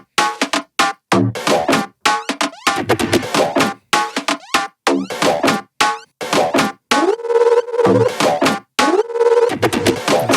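Loud tech house synth drop lead plays with choppy, stuttering rhythmic stabs broken by short gaps, then shifts into a sustained pitched, wobbling section near the end. The music runs alone without any talking.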